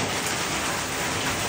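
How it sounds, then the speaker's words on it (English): Heavy pouring rain falls during a wild storm in regional Australia, a dense, steady roar of close, loud downpour with no gaps and no voices. "Now it's pouring rain."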